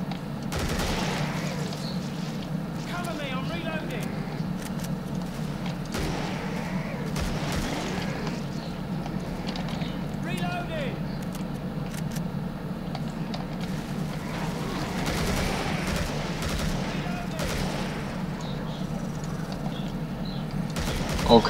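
AK rifle fire in the Killing Floor video game, with bursts of rapid shots and scattered single cracks over a steady low game hum, moderately loud throughout.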